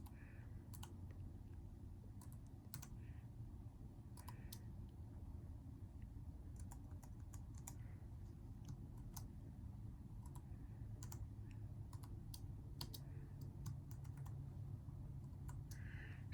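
Sparse, uneven keystrokes on a computer keyboard, typed with one hand, click faintly over a constant low machine hum, with irregular pauses between short bursts.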